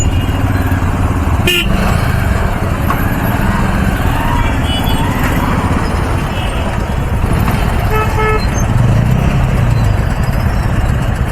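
Dense traffic jam on Hyderabad roads, with motorcycle and car engines rumbling steadily under repeated horn toots and honks, one sharp blast early and scattered beeps throughout, continuous and fairly loud.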